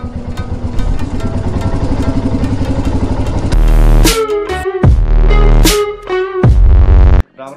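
A motorcycle engine idles with a steady chugging throb, then is revved hard with the throttle in several loud, rising bursts that drop back between pulls, ending abruptly.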